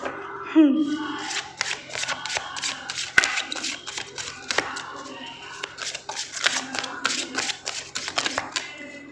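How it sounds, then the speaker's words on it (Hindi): Oversized tarot cards shuffled by hand in quick, irregular riffles and flutters of card edges, close and crisp, with a brief voice near the start. "ये कार्ड्स इतने बड़े हैं कि बहुत दिक्कत होती है इनको शफल करने में"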